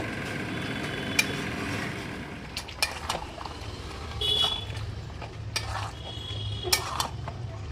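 Chicken kosha, Bihari style, is stirred and fried in a pot: a spoon scrapes and clinks against the metal over a low sizzle, with a few sharper knocks scattered through.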